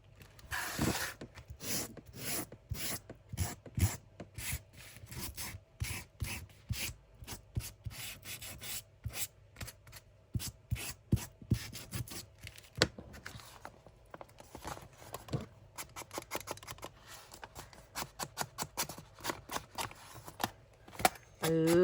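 Sanding along the worn edges of a handmade junk journal, heard as close, quiet, rhythmic rubbing strokes that run in quick irregular bursts with short pauses.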